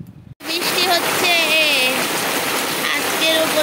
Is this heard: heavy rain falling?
yes